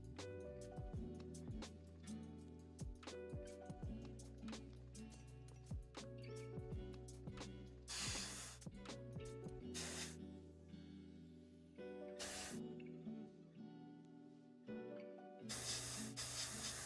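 Spray primer hitting large Warhammer 40k battleforce miniature pieces, heard as four short, loud hissing bursts spread over a steady musical background.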